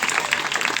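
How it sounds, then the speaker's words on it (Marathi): A classroom of students claps for three classmates, a brief, loud burst of close, busy hand claps. "शाबास, तिघांसाठी टाळी वाजा."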